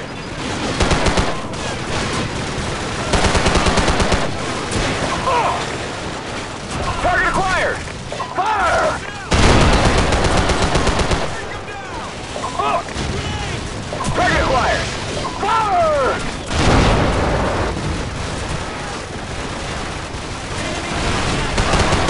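Gunfire in Call of Duty 4: Modern Warfare during a tank-escort mission, with bursts of rifle and machine-gun fire and heavy crashes under radio-style voices giving orders.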